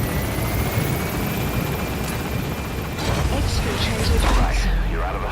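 Military transport helicopter climbing away from a landing zone in the video game Metal Gear Solid V, a dense steady rotor and engine roar filling the scene close up, with a brief radio voice partly masked underneath.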